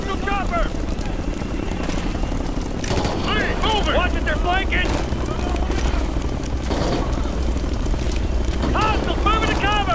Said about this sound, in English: Hostile chopper!